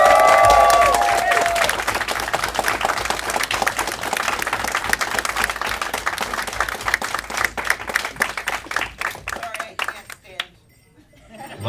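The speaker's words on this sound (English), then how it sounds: "Applause, guys." Audience applause at the CanFURence 2016 convention closing ceremony, a loud, dense burst of clapping with some cheering that gradually thins into scattered claps before dying away near the end.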